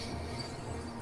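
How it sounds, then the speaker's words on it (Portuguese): Subway train rumbling outside a platform, a steady broad roar of rail noise with wheel hum, continuous and fairly loud throughout with no talking. "vocês ouvem o barulho do metrô lá fora"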